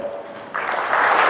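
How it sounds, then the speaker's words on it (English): Audience applause at a business school HR conclave in Bangalore, starting light and swelling into a fuller, steady clapping from the whole room partway through. "appreciation applause to the fabulous 5"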